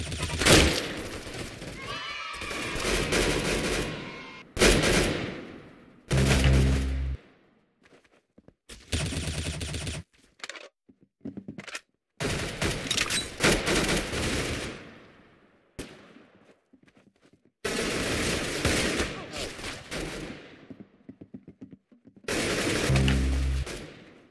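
Gunfire in the shooter game Arsenal comes in loud, sharp bursts and rapid volleys separated by short gaps, with voices talking between the shots.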